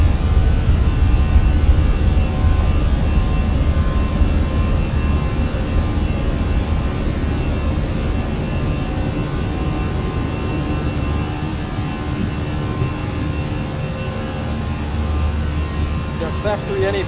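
Jet engines of a Fenix A320 airliner roar during takeoff in Microsoft Flight Simulator 2020, a loud, steady broadband rumble that holds for the whole stretch and eases slightly toward the end, with a voice talking over it.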